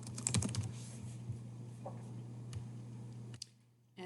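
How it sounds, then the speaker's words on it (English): A name being typed on a computer keyboard, a quick burst of close, light key clicks at the start, then a few sparse taps over a low steady hum. "type in your name"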